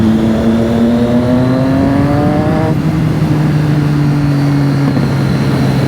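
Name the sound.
Triumph Street Triple motorcycle riding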